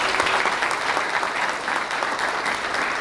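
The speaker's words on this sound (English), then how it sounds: "So please give them a round of applause." An audience at a town business appreciation breakfast claps steadily, a dense, even patter of many hands, fairly close and unbroken for the whole stretch.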